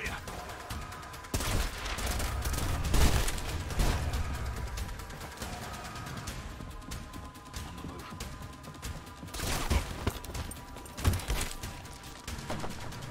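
A light machine gun in the shooter game Trepang2 fires in loud, rapid bursts with heavy crashing impacts and ringing debris between volleys, the shots returning in several separate clusters.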